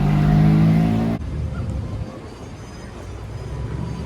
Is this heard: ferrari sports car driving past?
yes